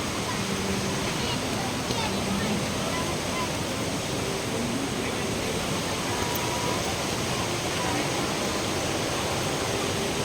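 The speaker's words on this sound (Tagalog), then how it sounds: "Natural na agos ng water." Natural water flows at a hot spring resort in Esperanza, South Cotabato, heard as a constant broad rush that fills the background while people talk nearby.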